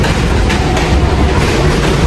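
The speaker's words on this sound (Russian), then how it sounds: "Ну вот, пришел наш трейн." A New York subway train rolls into the station with a loud, continuous clattering rumble of wheels on track, steady and close throughout.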